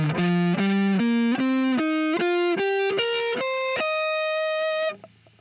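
An amplified electric guitar with distortion runs up an ascending scale in distinct plucked notes, one after another, steady and close, with the last note ringing out before fading.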